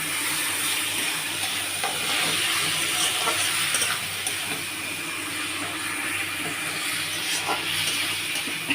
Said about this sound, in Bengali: এইবারে আমি কষতে থাকছি এটাকে।